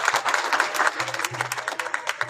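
An audience at a ceremony for special children applauds the chief guest: a short burst of scattered hand claps, fairly close and moderately loud, thinning out toward the end with low hum beneath.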